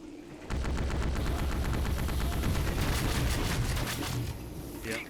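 Pulse cannon in Duke Nukem: Manhattan Project fires a dense, rapid stream of shots at enemies, loud and continuous for several seconds before tapering off near the end.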